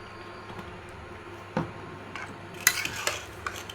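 Chicken leg pieces being mixed by hand or spoon with chili-garlic paste, turmeric and red chili in a bowl, soft wet squelching and a few light clinks against the dish, close and fairly quiet with no talking.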